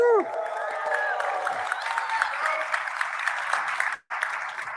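A large, lively crowd at an industrial AI event claps and cheers loudly and continuously, with a few whoops early on, before the applause cuts out briefly and resumes.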